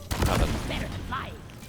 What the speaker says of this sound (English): I just successfully escaped an explosion with a grappling hook